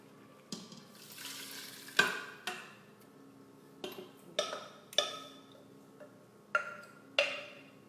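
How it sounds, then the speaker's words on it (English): Cashew chicken sizzles in a hot pan as the rest of the sauce is poured in and stirred, with repeated sharp scraping and clanking strokes of a utensil against the pan over a steady frying hiss, close and fairly loud. "we're going to add in the rest of that sauce"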